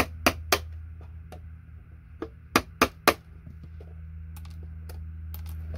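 Sharp metallic chipping as a chisel knocks BGA chips off a scrap circuit board for gold recovery: a handful of close, crisp clicks in irregular pairs over a quiet low hum.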